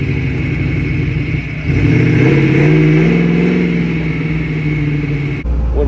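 A rock crawler's engine runs close and loud, its tone climbing as the gas pedal is barely touched, holding a raised note for a few seconds, then dropping back to a rougher idle near the end.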